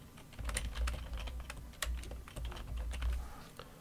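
Steady typing on a computer keyboard while entering configuration commands for a Cisco Catalyst switch, a continuous run of close, crisp key clicks over a low background hum.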